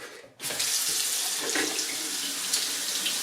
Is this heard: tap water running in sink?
yes